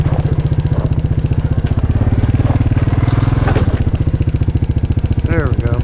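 A motorcycle engine with a sticky throttle idles close and loud in a fast, steady putter, with a voice talking over it near the end.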